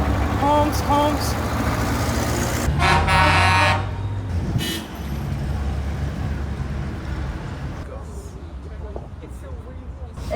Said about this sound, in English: Honks.